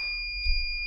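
A steady high-pitched electronic buzzer tone drones continuously over a low rumbling machine hum, a loading machine's safety buzzer sounding with its height limit turned off.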